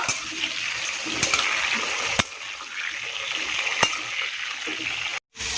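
Food salted and frying in a pan gives a dense, steady sizzle dotted with sharp pops and crackles, briefly cutting out near the end.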